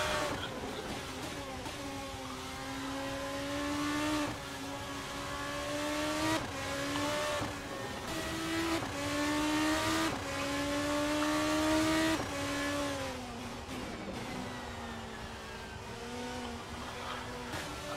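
Racing car engine from a sim racing game at Spa-Francorchamps, a sustained high-pitched roar climbing through the revs with repeated upshifts and brief dips, loud and close with no talk over it.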